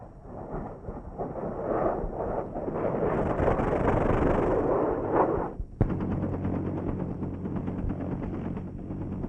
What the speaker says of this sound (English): gunships join in providing fire support with rockets, machine guns, grenade launchers, and even the helicopter-mounted 20mm cannon